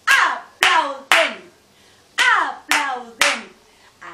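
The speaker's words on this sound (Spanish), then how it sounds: "¡Aplauden!" Six loud, separate hand claps, evenly spaced and sharp, ring out alone with no voices, as in a children's body-parts song.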